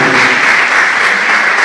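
Steady, dense audience applause at a fashion show, loud and close, continuing evenly without a break.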